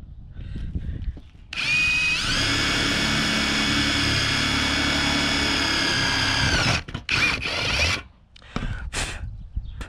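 A close, loud drill with a step bit whines steadily for about five seconds while cutting through sheet metal, then stops with a few brief rattles and clunks afterward.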